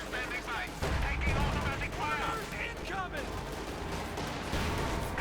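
Machine gun fire and other gunshots crackle in a Company of Heroes 2 one-versus-one match between US and German forces, rattling in short bursts beneath steady commentator talk.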